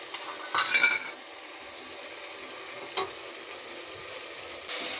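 Tomatoes fry for chicken biryani with a quiet steady sizzle, broken by a few clinks and scrapes of a spoon against the pan. There is no talking.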